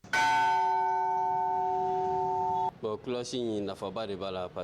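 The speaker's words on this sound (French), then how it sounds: "Les cloches ont une importance capitale dans l'Église catholique." A single church bell at the cathedral in Bamako strikes loudly and rings out with a long, steady sustained tone, then a person starts talking as the ringing is cut off.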